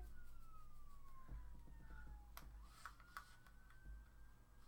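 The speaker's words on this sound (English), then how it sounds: "don't know whether you guys can hear that, but like a police car outside." A police car siren wails faintly from outside, its gliding tone falling then rising, under a low steady room hum with a few light ticks and knocks nearby.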